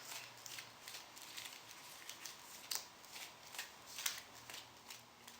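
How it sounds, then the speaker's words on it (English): A deck of Magic: The Gathering cards being shuffled by hand, a quiet, close series of crisp riffling and flicking bursts in an uneven rhythm, with a couple of sharper snaps as cards slap together. "So I'm going to be shuffling my deck before we get started"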